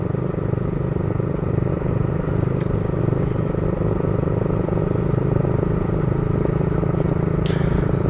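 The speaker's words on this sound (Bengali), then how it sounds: "অরিজিৎদার বাইকটা এখন রূপেশ চালাচ্ছে" A motorcycle ridden along a road, its engine giving a steady, loud drone with wind and rattling throughout, close up, with no talk.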